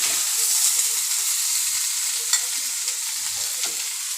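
Chicken curry sizzling steadily as it is sautéed and stirred in a pan, a close, continuous hiss of frying with a few faint scraping stirs and no talk.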